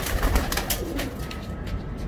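Pigeons cooing nearby in a loft during deworming care, soft repeated throaty coos alongside some rustling and handling noise.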